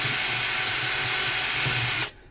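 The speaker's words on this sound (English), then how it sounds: "put the drill in and just kind of jiggle it out a bit" A power drill fitted with a 3mm bit whirs steadily at close range while widening screw holes, running continuously before cutting off abruptly near the end.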